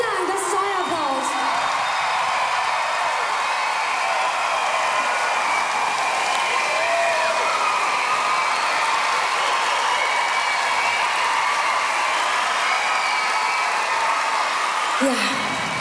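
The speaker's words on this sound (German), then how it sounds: "Und vielen, vielen Dank, das ist euer Applaus." A rock concert crowd roars with sustained applause, whoops and cheering, a loud continuous wall of sound from a large audience that holds steady throughout.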